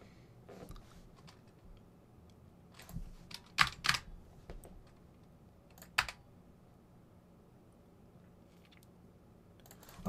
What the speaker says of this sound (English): this is by Bloody, and it's just springs because it uses UV lights to detect when the keys are pressed